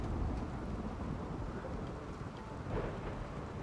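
Steady rain with low rumbling thunder in the video game RimWorld, a continuous dense wash of noise with no voices.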